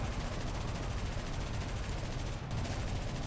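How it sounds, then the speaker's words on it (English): In War Thunder aerial combat, .50 caliber machine guns fire continuously: a thick, rattling roar of rapid shots at steady loud volume, with a brief dip near the end before the fire resumes. "Oh, 50 cals are engaging me."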